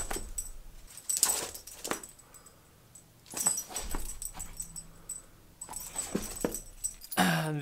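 A pit bull mix rescue dog on a hunt sniffs and snuffles close by with short wheezing breaths, faint whimpers and jingling tags, in uneven bursts.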